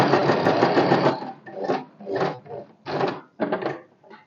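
Close, loud stitching from a sewing machine running along a blouse lining seam, a long burst followed by several short rhythmic bursts separated by brief pauses, with no talking.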